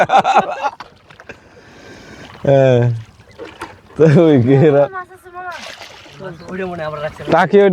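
Water laps and splashes around a small boat while several people talk loudly nearby throughout.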